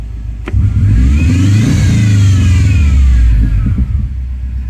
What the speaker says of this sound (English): the problem is I can give it full throttle and it's bogging down